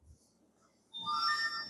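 A mobile phone ringtone going off during a physics lecture, a bright electronic melody that starts abruptly after a quiet stretch and rings steadily and fairly loud.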